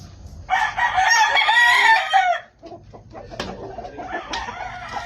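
Several chickens, five birds waiting to be delivered from Batangas to Cagayan, crow loudly and cluck close by. One long crow is followed by scattered clucks and shorter calls.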